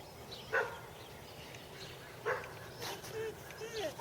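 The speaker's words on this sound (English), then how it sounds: "there's a dog barking there" Neighbors' dogs, a husky and a Pomeranian, bark a few times in short bursts from some distance outdoors, spaced apart, with voices talking nearby and faint bird sounds.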